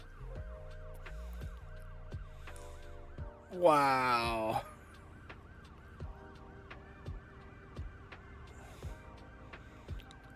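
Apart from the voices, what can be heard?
ambulance sirens in a video game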